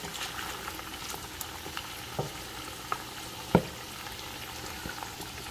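Pork ribs fry in a pan of oil after being turned, a low, even sizzle and bubble with a few sharp pops and one louder crackle midway.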